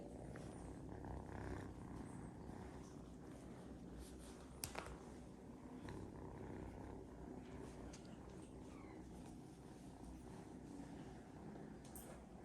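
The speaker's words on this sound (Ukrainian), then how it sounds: "Надіюсь, вам чути, як вони муркотять." Soft, continuous purring of several cats close by in a shelter, a low steady rumble with no talking, heard faintly in a quiet room.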